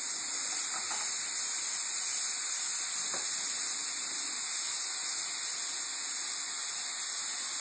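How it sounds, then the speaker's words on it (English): Cauliflower rice tossed in hot fat in a pan gives a steady, loud, bright sizzle and hiss that runs unbroken throughout, with no voices over it. "I just want to toss it just to coat it in the fat for the first time."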